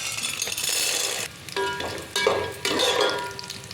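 Roasted gram and peanuts fry in hot oil in a pan while a spoon stirs them, giving a steady sizzle with scraping strokes and a few clinks, close and fairly loud.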